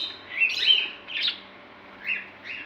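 Several bright, high chirps from small birds come in a loose sequence of short calls at moderate distance over a quiet background.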